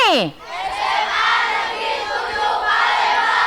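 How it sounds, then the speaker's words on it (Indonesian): An audience at a high school performance in Palembang cheers and applauds loudly, a dense, sustained roar of crowd noise that follows a brief rising sweep. "Tepuk tangan dulu"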